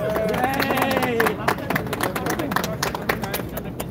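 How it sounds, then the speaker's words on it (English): A crowd at a mayoral campaign kickoff rally breaks into scattered, sharp clapping just after a voice finishes speaking, with chatter mixed in around the applause. "Give yourselves a big round of applause"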